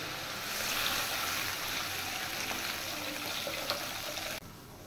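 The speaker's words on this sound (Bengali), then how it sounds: "এবার আমি দিয়ে দিচ্ছি জল।" A steady stream of water pours into a cooking pot for several seconds, a continuous hiss and splash that stops abruptly near the end.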